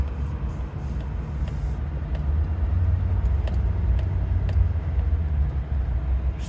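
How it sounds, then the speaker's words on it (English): A 2015 Chevrolet 2500HD pickup with a transmission shifting fault drives along, its engine and road noise forming a steady low rumble heard from inside the cab, with a few faint rattles over it. "We just gotta drive the truck and see."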